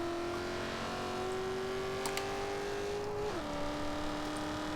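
A 2000 Ford Mustang SVT Cobra R in Forza Horizon 2 pulling hard in first gear, engine tone rising steadily before a quick shift drops the pitch, steady and fairly quiet.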